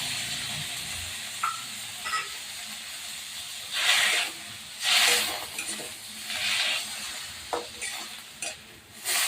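Chopped tomatoes roasting in a pan for an egg curry sizzle with a steady hiss, swelling into louder bursts as they are stirred, close and without talk.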